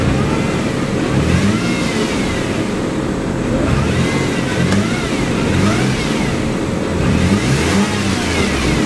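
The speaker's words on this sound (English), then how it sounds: "let's give it some revs here," Mazda Millenia S engine revved repeatedly in rising and falling sweeps, the 60k-mile car's exhaust droning loud and close with no talking.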